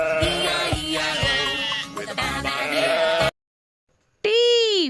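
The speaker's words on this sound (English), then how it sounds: "S for sheep." A sheep bleats loudly and up close in a few wavering cries over bouncy music, followed by a short silence and then one more drawn-out bleat.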